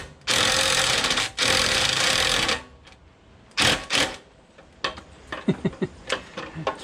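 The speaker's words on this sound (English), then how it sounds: "So this one I'm gonna turn the bolt in" A bolt is driven into a Z3X mulch kit on a 52- or 61-inch mower deck, heard as long, loud buzzing bursts from a power driver followed by short whirs and scattered metallic clicks and taps close by.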